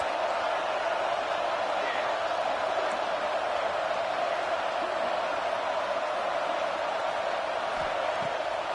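A large stadium crowd at a Tennessee vs Texas football game roars steadily for the defense on third down, a continuous dense wash of cheering that stays loud and even throughout.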